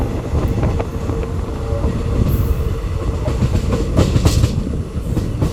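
Madurai–Trivandrum InterCity Express rolling along rail track past paddy fields near Valliyur, a steady close rumble of wheels with rhythmic clickety-clack joints and a few sharper rattles, continuous and loud with no talk.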